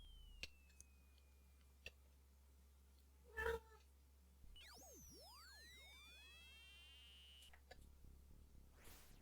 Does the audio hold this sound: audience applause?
no